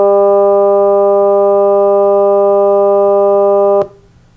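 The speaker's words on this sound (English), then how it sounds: "That was the sound of the stiff wire" A synthesized tone modeling a stiff piano wire, a loud steady harmonic note with many overtones, held alone for nearly four seconds before cutting off abruptly into near silence.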